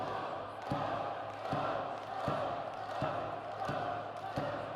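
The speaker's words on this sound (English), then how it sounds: "That chant by the Wenzhou crowd trying to urge the challenger" Rhythmic chant from a Wenzhou wrestling crowd urging on the challenger during a title match, steady and fairly loud with periodic sharp thumps punctuating it, under a commentator's voice.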